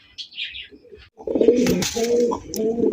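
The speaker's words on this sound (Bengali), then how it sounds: "রাজশাহী গিরিবাস হাই ফ্লাইং গিরিবাস কবুতর দেখতেই পাচ্ছেন মাশাআল্লাহ নরের ডাক দেখেন" A male Rajshahi Giribaj high-flying pigeon coos close by in a deep, throaty, repeated burbling call after a second of quieter chirps.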